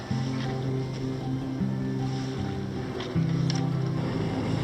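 A sailboat motors under engine across a calm, windless ocean, its engine a steady low drone with a constant hum that shifts slightly in pitch, over faint water wash.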